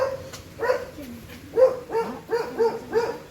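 A dog gives a run of short, whiny yelps and barks in quick succession, close by, with faint background noise.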